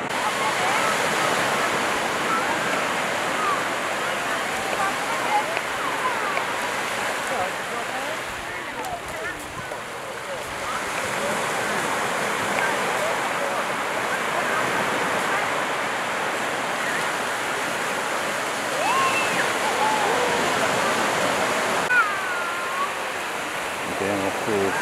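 Waves on the beach at Tenby, a continuous broad wash of surf with rising and falling swells, mixed with gusty wind buffeting the microphone.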